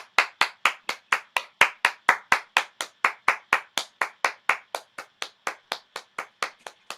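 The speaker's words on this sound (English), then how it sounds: "We used to do Detroit soul clap." Detroit soul clap performed as a steady, quick series of crisp, evenly spaced hand claps, close and alone, keeping a regular beat for several seconds.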